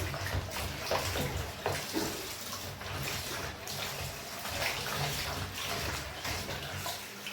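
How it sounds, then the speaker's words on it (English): Tap water runs steadily and close, a continuous hiss and splash as chicken feet are rinsed under the faucet after cleaning with vinegar, with no talking. "I have my running water."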